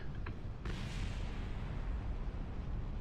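A firework-like explosion in the space game Kerbal Space Program: a sharp burst followed by a sustained loud rumbling roar that fills the whole stretch without fading.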